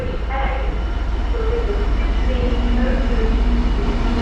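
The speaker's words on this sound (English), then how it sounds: "coming through now, we've got a freight as we're back at Lincoln Central now" A freight train hauled by a class 66 diesel locomotive rumbles steadily through Lincoln Central station, with a loud continuous drone of wheels and engine and faint squeals throughout, while a voice talks over it.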